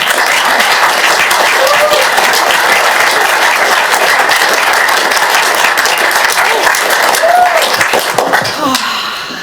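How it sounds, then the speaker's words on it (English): Sustained applause fills a council chamber at an inaugural council meeting, a dense, steady roar of many hands clapping close by that carries on for several seconds before easing off at the end. "just have another round of applause?"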